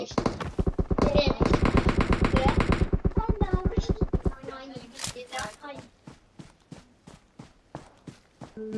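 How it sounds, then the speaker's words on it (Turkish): Automatic weapon fire from the mobile battle royale game PUBG Mobile, a long rapid burst of shots followed by scattered single shots and short bursts, loud and close. "Ama bana kim sıkıyor? Nereden sıkıyorsun be?"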